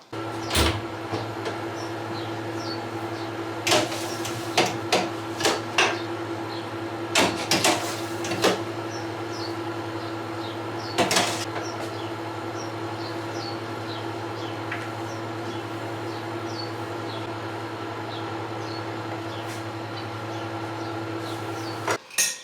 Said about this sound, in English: let's turn the freeze dryer on